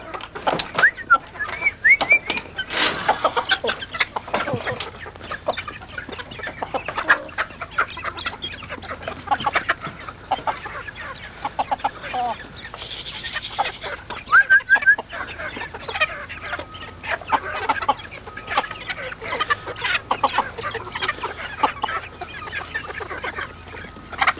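A flock of chickens rushing out a door toward their feed, with constant clucking and squawking and scattered busy rustling, close by and lively throughout.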